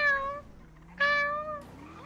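A cat in a roleplay video game gives two clear, drawn-out meows about a second apart, loud and close, followed by a short rising chirp.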